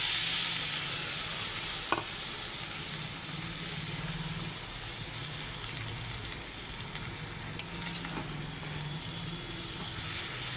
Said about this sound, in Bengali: এবারে সব আমি একসঙ্গে ভালো করে কষিয়ে নেব